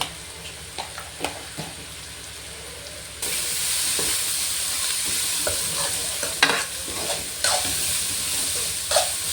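Vegetables, seasoned with chilli powder, sizzle in a hot pan while a spatula scrapes and taps, and the sizzling jumps louder partway through as the food is stirred.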